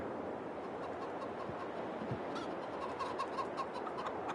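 Chickens cluck softly in Farming Simulator 22, a faint scattered chatter of game fowl sounds sitting under a steady low background hum.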